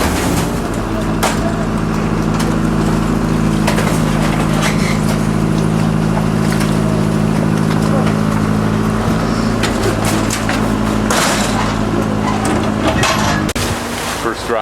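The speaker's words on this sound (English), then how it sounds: "First ride on the Vaporetto down to San Marco." A Vaporetto water bus heading to San Marco in Venice drones with a steady low engine hum and rumble throughout, loud and close, with scattered knocks and clatter on board and some voices in the background.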